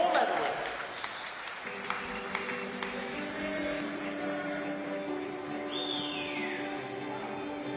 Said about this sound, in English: a round of applause for your medal winners